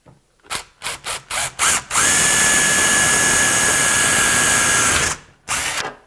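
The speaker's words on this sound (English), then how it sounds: "We're going to drill a small little pilot hole." A power drill revs in several short bursts while drilling a small pilot hole in a ring terminal held in a vise, then runs steadily for about three seconds with a high whine, stops, and gives one final burst.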